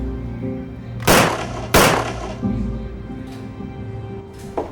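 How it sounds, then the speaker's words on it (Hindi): Two sharp gunshots fired at a target ring out in quick succession, loud and close, each followed by a brief decaying echo, with fainter knocks trailing after over a low steady background. "दोनों शॉट एकदम सही जगह पर लगे।"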